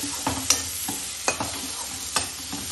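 Onion and tomato fry in a pan for mutton kulambu, with about three distinct scraping stirs breaking up a steady close sizzle.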